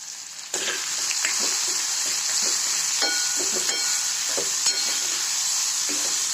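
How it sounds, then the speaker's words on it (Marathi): Onion and chaat mixture made from leftover chapati roasting in a pan, a steady loud sizzle and hiss throughout with the scrape and clink of a spoon stirring at irregular intervals. "थोडासा भाजायचा आता ह्याला चांगलं हलवून घेते"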